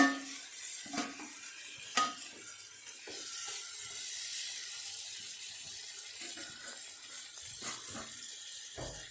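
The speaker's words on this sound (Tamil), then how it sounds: "நம்ம வறுத்து வச்ச சிக்கன் இதில் போட்டு நல்லா ஒரு மிக்ஸ் பண்ணிவிட்டு" Fried chicken is stirred into biryani in a cooking pot, with close scraping and clinking of a spoon against metal over a soft steady sizzle, in irregular strokes without talk.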